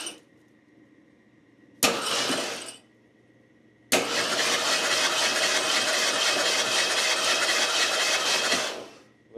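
The engine of an abandoned Ford LTD cranks in a short burst, stops, then fires and keeps running with a loud, steady, rough roar close by for several seconds before cutting off.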